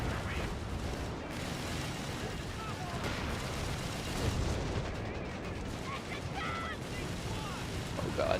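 An artillery strike in the Slumber Realm game pounds the area amid constant gunfire and rumbling blasts, forming a dense, noisy battle roar with faint voices mixed in.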